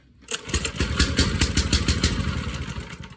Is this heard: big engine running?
yes